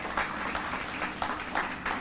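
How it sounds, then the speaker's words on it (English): A short burst of applause from the crowd at a children's museum reopening, busy clapping heard alone for about two seconds. "Let's give them a round of applause."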